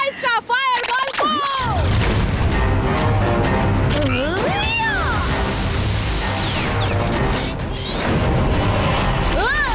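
A cartoon magic fireball attack: whooshing, swooping effects and a rumbling blast under loud excited voices, with a long falling whistle midway and dramatic music throughout.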